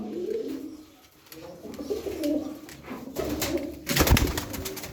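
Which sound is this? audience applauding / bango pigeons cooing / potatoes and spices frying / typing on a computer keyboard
bango pigeons cooing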